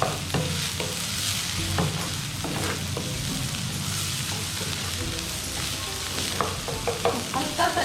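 Chopped onion fries and crackles in a pan while a utensil stirs and scrapes through it, a dense continuous sizzle with repeated clinks and scraping taps, no talking.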